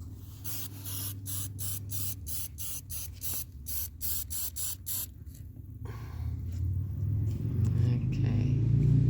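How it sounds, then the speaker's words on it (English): An aerosol spray can paints the tyre of a toy wheel in a quick series of short, hissing bursts with brief gaps between them. A low rumble swells underneath as the spraying stops. "Granddad's going to paint the tyre now"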